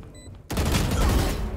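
Rapid burst of gunfire from a wall bang through cover in the shooter game Valorant, loud and sustained after a quiet opening, with dense overlapping shots.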